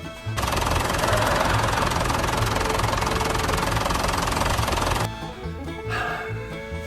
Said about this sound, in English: Right over there's my tractor running.